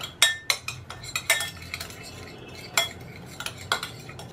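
Salt and spice masala are mixed for a leftover-rice chivda batter, with repeated clinks and scrapes of a metal spoon against a bowl in quick irregular bursts, a few louder taps standing out.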